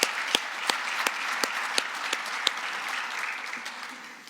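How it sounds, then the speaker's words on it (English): An audience claps warmly at a university athletic director introduction, steady applause with several sharp individual claps standing out, fading slightly toward the end. "Let's give another round of applause to President Koborik."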